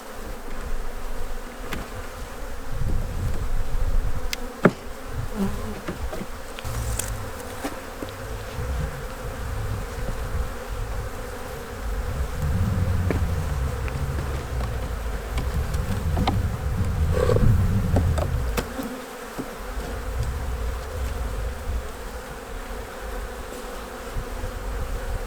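Honeybees buzz steadily at a Kentucky beehive during winter prep, a dense close drone that swells and fades as insects pass near, with occasional louder fly-bys and no talking.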